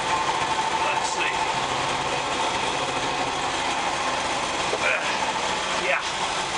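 Farm machinery engine runs steadily through a soybean harvest, a constant close mechanical drone with faint rattles, while people talk over it.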